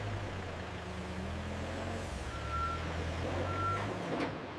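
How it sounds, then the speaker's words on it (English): A truck at a glass marble factory loading area gives a few high reversing beeps over a low engine rumble, with a brief hiss at the end and no talking. "Trucks are loaded and ready for market distribution."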